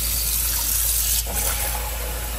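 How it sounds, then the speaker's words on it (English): Warm water gushing into a container holding a household bleach cleaner mix, a loud, steady, close rushing pour that shifts in tone partway through, with no talk. "And we'll throw some warm water in on top."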